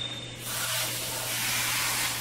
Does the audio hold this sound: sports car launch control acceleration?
no